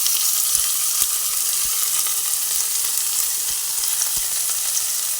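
Mashed cauliflower sizzling loudly in a hot pan for a Bengali cauliflower bharta, a steady dense fry hiss with a few faint spoon taps, no voices.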